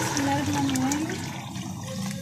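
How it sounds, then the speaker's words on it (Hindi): A jug of water pours into a cooking pot of black chickpea curry to make the broth. The steady splashing is fairly soft and close, running for a couple of seconds with faint kitchen noise around it. "तो यहाँ मैं 1 जग पानी डालूँगी।"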